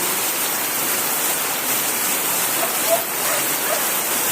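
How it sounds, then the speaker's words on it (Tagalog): Steady, dense hiss of heavy rain pouring down without letup, loud and close, with no voices. "Sobrang lakas talaga ng ulan."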